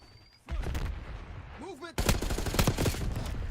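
Gunfire and a grenade in a video game shooter: a short burst of shots and blasts after a quieter start, with a voice talking over part of it.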